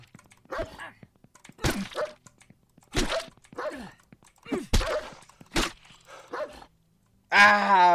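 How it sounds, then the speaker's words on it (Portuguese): A dog barks and attacks in the survival video game No One Survived, with a series of sharp, separate barks and snarling hits, closely spaced and loud, ending with a groaning cry. "Ah, o cachorro me matou"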